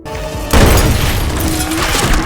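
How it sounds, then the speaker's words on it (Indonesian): A loud, sudden boom bursts out after a brief lull as a shot bowl of bullets explodes in an office room, then a long roaring, crackling rumble with scattered debris clatter. "menembak sebuah mangkuk berisi peluru, memicu ledakan yang menjatuhkan sisa musuh yang masih ada di ruangan"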